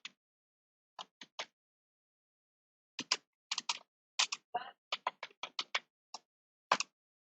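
Typing on a computer keyboard: sparse, crisp key taps heard close and alone against silence, arriving in short irregular clusters with pauses between.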